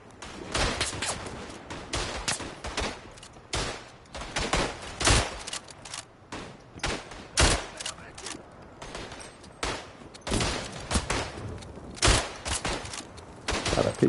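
WW1 bolt-action rifle fire on the eastern front in Tannenberg, with repeated sharp cracks, some near and loud and others distant, scattered irregularly across a battlefield din.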